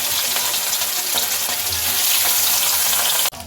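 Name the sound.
fish frying in hot oil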